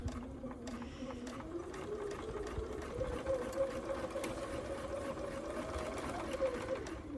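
A domestic sewing machine runs steadily, stitching a quarter-inch seam joining the head to the body of a fabric doll, with a continuous whirring hum under quiet room noise.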